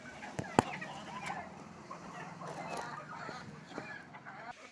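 Native backyard chickens on a rooftop terrace at feeding time give soft, scattered clucks and calls, with one sharp knock early on, all fairly faint against a quiet room tone.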